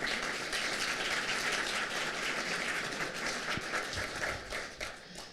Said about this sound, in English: Can we give those sponsors a round of applause